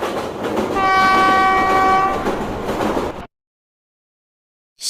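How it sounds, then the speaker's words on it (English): A train rumbles past with a sustained, loud horn blast over the clatter of the cars, then the sound cuts off abruptly into silence. "train"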